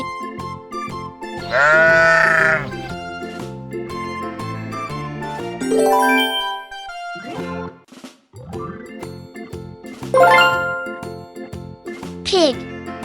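Several loud, quavering sheep bleats come a few seconds apart, sounding close over a bouncy, tinkling backing tune.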